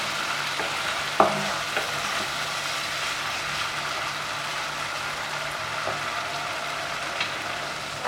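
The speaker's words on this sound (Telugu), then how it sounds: "దీంట్లో 1 స్పూన్ అల్లం వెల్లుల్లి పేస్ట్ వేసి అల్లం పచ్చి వాసన పోయేంత వరకు వేయించుకోవాలి." Ginger garlic paste fries with onions in a pan for coriander rice, a steady close sizzle with a few sharp clicks of a spoon against the pan.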